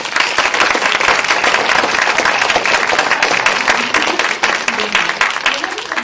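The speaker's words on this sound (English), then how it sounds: "if I can get a round of applause for our lovely panel" Audience at an AI summit applauding a panel, loud dense clapping that fills the whole six seconds, with a voice faintly rising toward the end.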